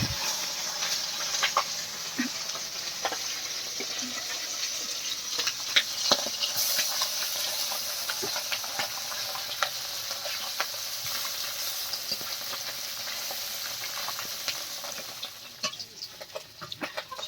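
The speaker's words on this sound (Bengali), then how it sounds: "এখন মাছগুলো ভেজে নেব।" Fish fries in oil in a pan as it is stirred, giving a steady sizzling hiss with scattered crackles and occasional utensil clicks.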